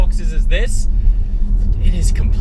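Audi RS6 Performance fitted with an Akrapovic titanium exhaust rumbling steadily and deeply close by, heard under someone speaking.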